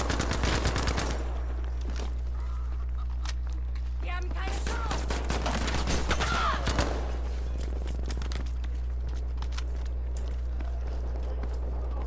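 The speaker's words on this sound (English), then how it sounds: "triple kill with a fucking Tommy gun on here" Tommy gun fire in a Battlefield 5 team deathmatch, rapid bursts of automatic shots in clusters over a constant low game hum, mixed with footsteps and scattered effects, fairly loud with no talking.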